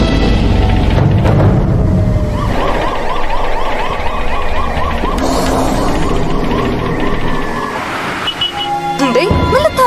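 An ambulance siren wails loudly and continuously in a tense roadside scene of a drama, rising and falling under excited overlapping voices.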